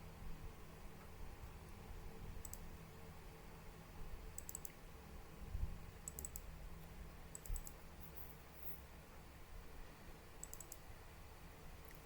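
A computer mouse clicks faintly and sporadically, five or six soft, crisp clicks spread over a quiet background hum.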